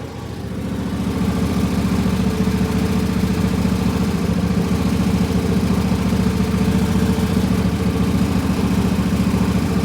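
A tractor engine runs after a warm start, a steady, loud low chugging idle heard close up that swells over the first couple of seconds and then holds even with no talking.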